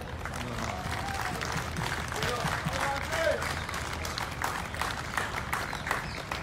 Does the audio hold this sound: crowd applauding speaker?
yes